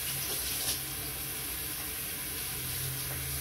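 Tap water runs steadily into a kitchen sink while dishes are rinsed, a continuous close hiss of flowing water with no one speaking.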